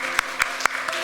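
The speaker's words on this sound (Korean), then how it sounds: "박수로 환영하겠습니다" A few scattered handclaps from a church congregation welcoming visiting guests, four sharp separate claps within about a second.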